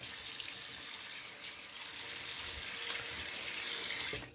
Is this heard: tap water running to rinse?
yes